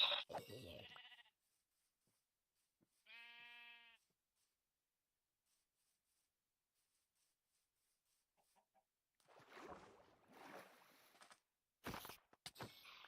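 In a Minecraft SMP game, a short, clear sheep bleat rises out of near silence, with scattered bursts of other game noises and clicks before and after.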